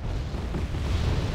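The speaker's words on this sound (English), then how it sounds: "Su-24M does come in and land a lovely bombing strike onto Val here" Su-24M bombing strike in the video game Wargame: Red Dragon, a dense, rumbling low boom that rolls on steadily for over a second without any sharp separate bangs.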